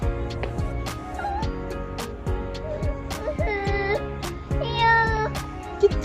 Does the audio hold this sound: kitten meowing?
yes